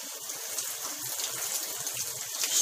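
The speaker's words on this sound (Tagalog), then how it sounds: "Shower time!" A shower runs at home, water spraying in a continuous bright hiss that holds steady and close with no voices.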